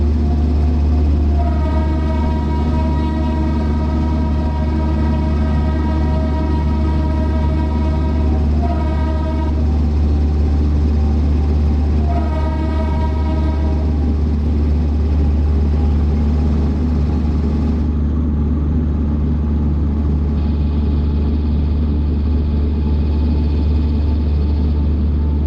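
Simhapuri Super Fast Express running in a train simulator game, a continuous loud rumble of wheels and engine throughout, with several long horn blasts sounding over it before fading.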